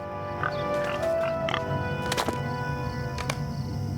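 Pigs oinking in the Lord of the Rings Online game, a few short grunts scattered over a steady ambient music and environment bed, with faint tonal chimes; no talking.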